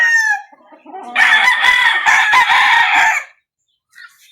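A seven-month-old Straight Sweater gamefowl rooster from a backyard breeder gives one loud, close crow lasting about two seconds, with clucks before it and a faint call after.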